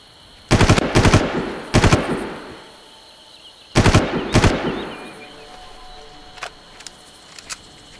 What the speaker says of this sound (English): So, everybody heard those gunshots, but they don't know where I am.